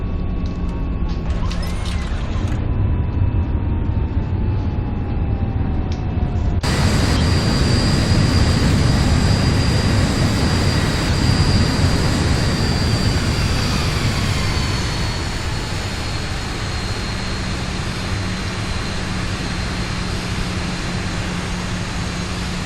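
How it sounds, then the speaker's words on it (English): An airliner in the X-Plane flight simulator touches down long and rolls out along the runway, with a loud continuous engine and rumble roar that shifts abruptly after touchdown and then slowly eases off. "a bit of an untidy landing, I'm afraid. Well, untidy rollout"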